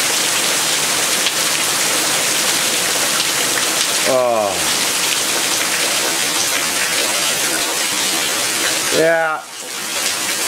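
Heavy rain in a New Hampshire June storm pours down onto freshly seeded dirt, a loud, dense, continuous roar of rushing water close by, with two brief spoken exclamations over it.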